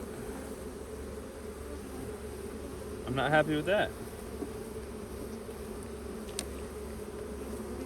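Honey bees buzzing from an opened hive, a steady close hum throughout, with a brief spoken remark partway through.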